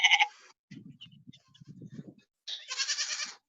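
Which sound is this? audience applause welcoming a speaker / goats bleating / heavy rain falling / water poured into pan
goats bleating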